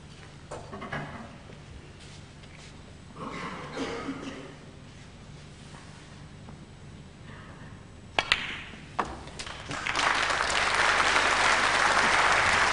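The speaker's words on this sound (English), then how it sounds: "Knowledgeable applause." In a quiet snooker arena at the 2004 Masters, Jimmy White versus Neil Robertson, a couple of sharp ball clicks and faint murmurs give way to a swell of sustained audience applause over the final few seconds.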